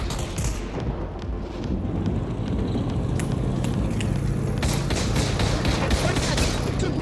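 Gunfire in a World War II battle in Pavlov VR, a rapid, continuous crackle of shots, some near and sharp, over a constant din of combat.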